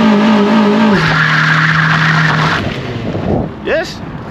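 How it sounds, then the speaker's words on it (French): A Peugeot 206 GT 2.0 16S doing a burnout in first gear with the handbrake on: the engine holds a high droning rev, then tire squeal and skidding, easing off and tailing away into a short sharp chirp. "moi elle burn en première avec le frein à main tendu"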